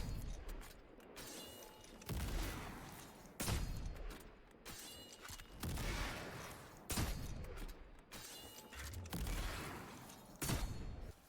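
Weapon fire in the video game Destiny 2, the Izanagi sniper rifle alternating with a rocket launcher, a series of sharp loud shots and blasts spaced a second or two apart, each decaying into a rumbling tail.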